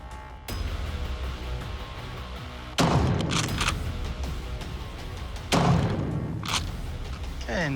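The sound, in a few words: gunshots fired at a shooting range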